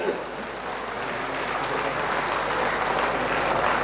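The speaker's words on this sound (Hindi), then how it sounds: "जरा जोरदार तालियां तो बजाइए।" A large crowd at an outdoor public government event breaks into sustained applause, a steady wash of many hands clapping that holds at an even, fairly loud level throughout.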